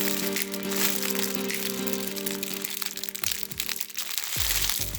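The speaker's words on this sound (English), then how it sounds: "what's making that crunching noise?" A Crunchimals squeeze toy, a crunchy squishy bought at Target, is squeezed repeatedly, giving dense crackling and crinkling crunches close up, with a steady tone running beneath and no talking.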